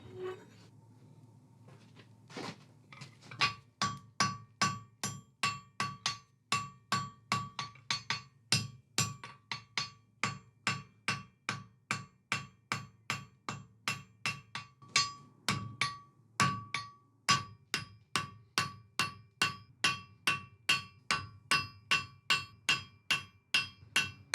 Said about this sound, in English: I think I'll take it to the anvil now and refine the shape a bit more and begin to put the taper on the fork there